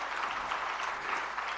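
Audience applause fills a hall, a steady dense wash of clapping at moderate level, continuous for a moment and with no voices over it.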